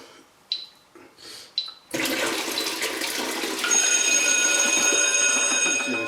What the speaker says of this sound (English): Basically all I'm doing is running cold water, just slowly, fill it up first.